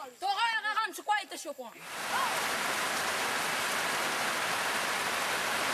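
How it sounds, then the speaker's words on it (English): Rain falls on Kiriwina Island in the Trobriand Islands of Papua New Guinea as a dense, steady hiss that fills the scene after a short stretch of talking. "It hasn't stopped raining 3 days I've been here"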